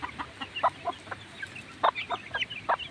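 A hen and her chicks cluck and peep outside their coop, a scatter of short, close calls with brief soft chirps between them over quiet outdoor background.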